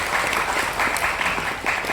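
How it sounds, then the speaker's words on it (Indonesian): Dense, steady applause from an audience at the inauguration of the Arsjad Rasjid Lecture Theater at Universitas Hasanuddin, loud and sustained for the whole stretch with no break. "Jangan tepuk tangan dulu"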